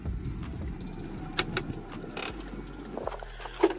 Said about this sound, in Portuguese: Retrovisor elétrico.